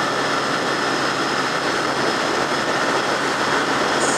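A motorbike engine roars steadily at high speed as the rider pushes toward 70, a loud continuous drone mixed with wind rush and no pauses.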